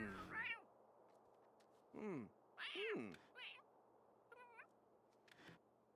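A cat meows repeatedly inside a city-building video game, several short rising-falling cries spaced irregularly over a quiet, low background hum.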